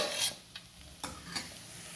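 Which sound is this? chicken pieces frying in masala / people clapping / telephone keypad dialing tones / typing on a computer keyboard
chicken pieces frying in masala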